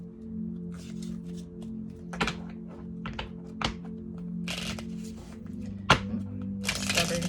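A deck of tarot cards is shuffled by hand, giving a stubborn, irregular run of dry clicks, snaps and papery riffles close by over a steady low room hum, with no talk.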